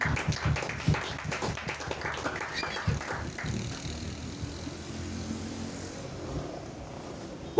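A church congregation clapping and cheering in acclaim, a burst of loud mixed applause and voices at the start that gradually thins and fades into a quieter murmur.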